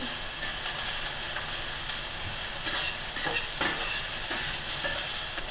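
Onions frying over medium heat, a steady hiss with occasional clicks and scrapes, close and fairly loud.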